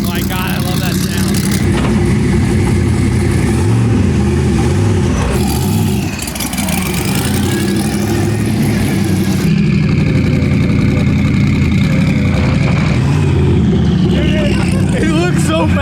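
A 1200hp twin-turbo V8 Corvette Z06 time attack car idles and revs loudly close by, its deep engine roar rising and falling in surges while people talk excitedly over it.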